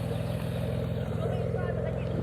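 A Mitsubishi GTO engine with a suspected boost leak idles steadily up close, a continuous low rumble with regular pulsing throughout.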